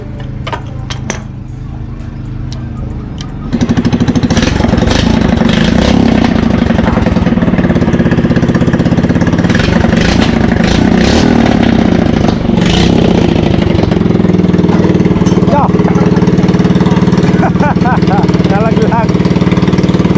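A Honda Dio scooter's engine, a loaded build, starts up and runs with a loud, rough, sputtering idle close by, while people talk over it throughout.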